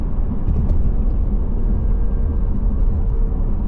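A car engine fitted with Perrin performance parts runs with a loud, dense, low rumble, steady and close; a high-pitched squeal from a boost leak is not clearly evident over the roar.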